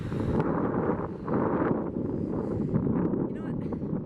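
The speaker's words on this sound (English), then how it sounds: "it's so windy out here" Strong wind buffeting a microphone outdoors, a continuous low roaring rumble with gusty swells throughout, steady and close.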